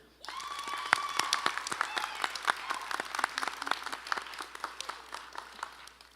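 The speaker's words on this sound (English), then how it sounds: "give a round of applause to our teachers and family members for continuing to support us throughout this journey" Graduation ceremony audience applauds teachers and family, a crowd of clapping hands starting abruptly and continuing as a steady, moderately distant patter that gradually thins toward the end.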